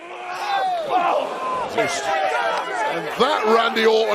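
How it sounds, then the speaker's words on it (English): A WWE wrestling arena crowd roars and chatters during a Randy Orton versus McIntyre match, while a commentator talks over the noise. "Listen to the crowd."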